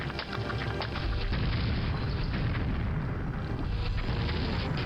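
A rocket explosion in the Quake expansion Dissolution of Eternity on Hard, a loud, dense rumbling boom that fills the whole stretch with sustained roaring debris and low thunder.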